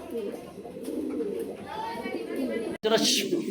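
Pigeons, including blue and coloured breeds kept at a farm, coo in deep repeated throaty calls close by while someone talks over them.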